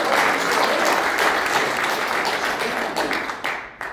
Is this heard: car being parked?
no